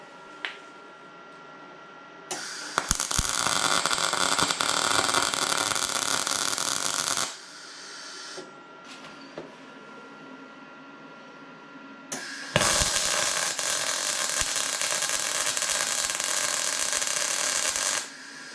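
Tack welding on a narrowed Ford 8.8 axle housing: two bursts of loud crackling, hissing arc noise, each several seconds long, separated by a quieter pause.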